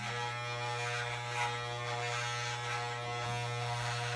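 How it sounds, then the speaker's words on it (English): Electric hair clippers buzz steadily at close range, cutting hair during a home haircut, a constant hum with no speech. "I'm kind of flicking the clipper away to blend it in a little bit"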